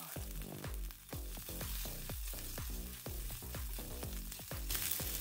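Cumin seeds and finely chopped ginger sizzle in hot oil, a soft continuous crackle broken by regular scraping stir strokes, moderately quiet and close.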